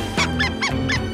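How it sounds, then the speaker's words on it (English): A squeaky rubber bunny toy squeezed four times in quick, even succession, each squeak sharp, loud and close, with no talking. "A squeaky bunny? That's going to save us?"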